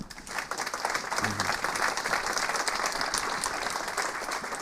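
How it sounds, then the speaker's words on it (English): Convention audience applauds the panellists at an amateur radio gathering, a steady, sustained wash of many hands clapping in a hall for several seconds. "let's give a big applause this time for our panellists"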